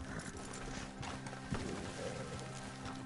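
Horse hooves clip-clopping in the video game Red Dead Online, a steady gallop rhythm heard faintly against game ambience with no talk.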